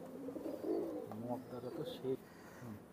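A pair of Teddy-breed pigeons in a loft coo in soft, low, repeated rounded calls that run steadily through the moment at close range.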